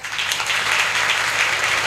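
A crowd at a public Beti Bachao Beti Padhao programme breaks into dense, continuous applause, a steady wash of many hands that fills the whole moment with only faint voices underneath.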